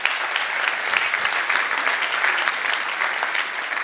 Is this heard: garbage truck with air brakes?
no